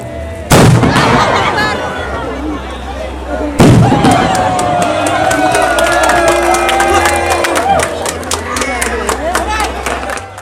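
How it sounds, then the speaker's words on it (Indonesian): Two huge booming carbide cannon blasts a few seconds apart, each followed by a crowd shouting and cheering loudly, with the noise of the crowd continuing throughout. "Gelaran ini ditandai dengan dentuman meriam karbit."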